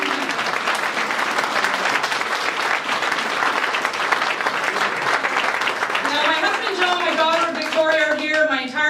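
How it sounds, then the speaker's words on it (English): Loud, sustained applause from a crowd at a political campaign kickoff, steady throughout, with a voice rising over the clapping near the end. "let's give them a big round of applause for being amazing"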